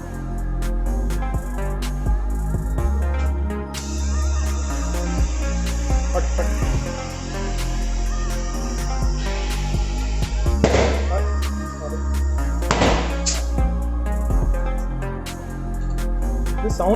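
Motorcycle tyre beads snapping onto the rims of a Kawasaki Versys 650 during a Timsun TS-659a sport tyre fitting, with a couple of sharp, loud pops standing out above steady background hiss and clatter.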